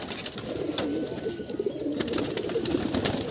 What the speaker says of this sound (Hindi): और एक ये कबूतर देखिए।